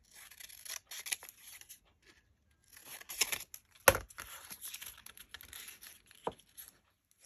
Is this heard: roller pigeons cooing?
no